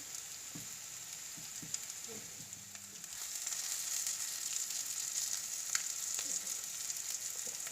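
Fish fries in a pan with a steady, faint crackling sizzle that grows a little denser partway through. A few soft knocks sound early on. There are no voices.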